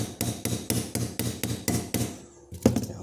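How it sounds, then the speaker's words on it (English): A hammer peens a pocket knife blade pivot pin in eight close, evenly spaced metallic taps, pauses briefly, then lands one more sharp blow. "This one I want to peen very carefully now."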